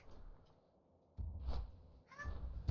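A house cat meows a couple of times in a quiet room, with a short broken-up meow near the start and clearer, louder meows further on, heard alone with no voices.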